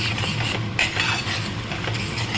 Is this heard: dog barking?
no